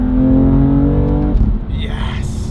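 A BMW car engine and exhaust accelerating nearby, a strong steady harmonic drone that shifts pitch partway through, with background noise and a voice partly overlapping.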